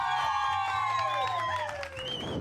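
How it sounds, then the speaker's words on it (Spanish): A television show audience applauds in a sustained wash of clapping and crowd noise while tonal music sweeps over it, loud and continuous throughout. "Un aplauso, por favor,"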